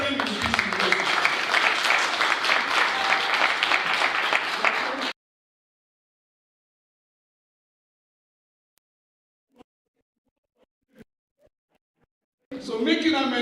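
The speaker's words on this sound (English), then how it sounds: "If you want to clap, let's clap very well." Audience clapping at an educational management conference: a dense, loud burst of many hands for about five seconds, then near silence with a few faint knocks, before the applause returns at the end.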